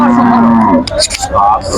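A cow gives a loud, drawn-out moo close by, followed by a clatter of market noise and scattered voices.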